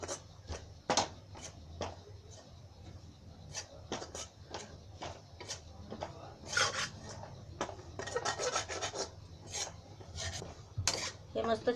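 A spatula scrapes and rubs repeatedly against a pan while gram flour is stirred and roasted in ghee, irregular close rasping strokes over a low steady background hum, no talking.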